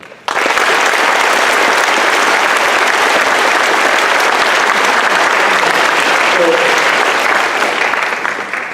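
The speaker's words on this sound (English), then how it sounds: "I'd just like to give a round of applause to my fellow veterans up here on stage with me." Sustained, loud audience applause at a school Memorial Day assembly honoring veterans on stage, a dense wash of clapping that runs steadily for about eight seconds before tapering slightly at the end.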